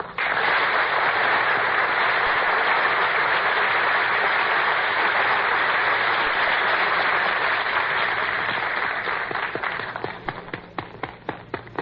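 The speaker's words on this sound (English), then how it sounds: "you're not supposed to applaud yourself" A large audience applauding a radio stage performer, a loud, dense wash of clapping that holds steady, then thins into scattered individual claps near the end.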